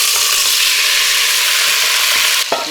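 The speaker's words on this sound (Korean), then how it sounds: "자, 이 불을 다시 켜서 기름에 김치를 볶아 보겠습니다." Kimchi fries in hot oil in a pan, giving a loud, dense, continuous sizzle up close, with a brief stir or scrape near the end and no talking.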